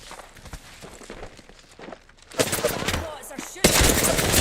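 Apex Legends gunfire, starting as scattered light pops and then breaking into loud, dense automatic bursts in the second half, with no one speaking.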